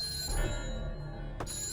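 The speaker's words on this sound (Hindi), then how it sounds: "सर, घंटी बज रही है, कोई फोन नहीं उठा रहा है।" Telephone ringing in a police station scene, a steady electronic ring heard over background music, with a short bright click near the end.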